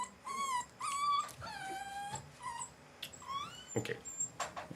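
Dog whimpers and whines in several high, wavering bursts, close by and fairly soft, with short pauses between cries and some rustling near the end.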